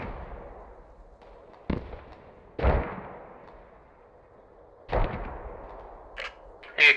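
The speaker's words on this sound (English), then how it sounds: "I'm landing mortars on you" Mortar fire in the Post Scriptum wartime shooter game: several booming blasts and thuds spaced a second or two apart, some distant and some closer, over a low rumbling battlefield background.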